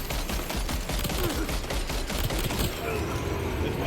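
Video game gunfire in a first-person shooter, a dense, continuous burst of rapid shots that stays loud and close for the whole stretch.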